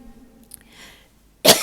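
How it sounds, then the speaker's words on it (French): A woman gives a single sharp, loud cough at close range after a quiet pause during a sermon. "ça fait pas bien de tousser en ce moment"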